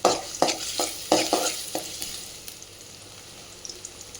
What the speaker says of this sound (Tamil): பொடி பொடியாக நறுக்கி வச்சு பூண்டு இஞ்சும் சேர்த்துக்கலாம். இது நல்லா பொரியட்டும்.